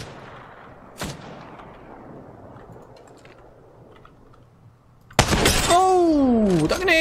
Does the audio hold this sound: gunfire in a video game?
yes